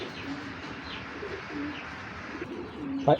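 Pigeons, a pair of females kept for sale, coo in soft repeated low calls with a few sharper chirps near the end, close and alone over faint background noise.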